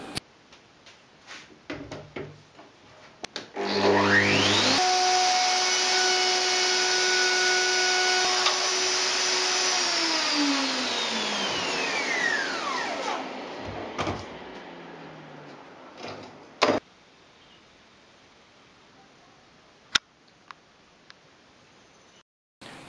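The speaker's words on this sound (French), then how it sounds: "j'utilise, comme d'habitude, une douille à copier et une fraise droite montée sur la défonceuse." A handheld wood router fitted with a straight bit and copy ring machines handle cutouts in plywood for bathroom furniture, spinning up to a loud steady whine, cutting for several seconds, then winding down, followed by a few scattered knocks.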